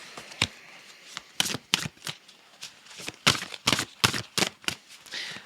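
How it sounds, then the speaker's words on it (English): Tarot cards shuffled by hand in a quiet room, a series of crisp, quick riffles and slaps in an uneven rhythm, close to the listener and soft overall, with no talk. "Shuffling the cards, Amazonian way."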